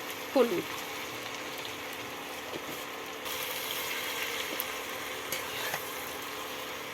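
Turmeric and vegetables are stirred in a frying pan over steady oil sizzle, with a few soft spatula scrapes and knocks breaking through the continuous hiss, close by.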